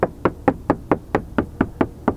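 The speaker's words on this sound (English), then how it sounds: "So I'm gonna go ahead and do the knock test." Knuckles rap a truck door treated with Noico sound deadening, ten firm evenly spaced knocks, close and dull-sounding, with no talking.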